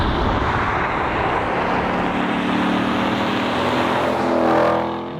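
A 2020 Ford Shelby GT500 drives steadily with a loud, continuous engine drone and road rumble throughout, swelling briefly near the end before easing off.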